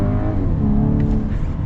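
A 2024 VW Atlas SUV accelerating on a road, steady rising engine drone heard from inside the cabin, loud and continuous with no speech.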